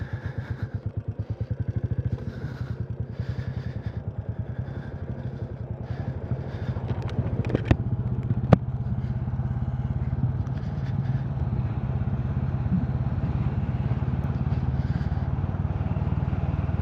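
Royal Enfield 350 fuel-injected motorcycle riding along an evening backroad, its steady low engine thump running continuously and fairly loud, with a couple of brief clicks partway through and no talk.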